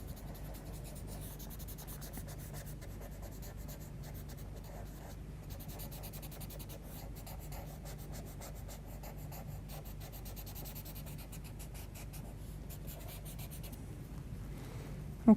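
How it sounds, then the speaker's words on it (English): Soft, continuous rubbing and scratching of a paper stump blending charcoal pencil on paper, faint and close, with a steady texture of small strokes throughout. "we'll use the paper stump and just blend that in a bit"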